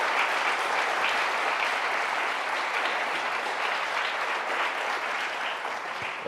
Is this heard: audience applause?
yes